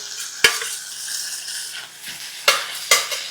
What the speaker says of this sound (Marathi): तर यामध्ये बारीक चिरलेला टोमॅटो घालूयात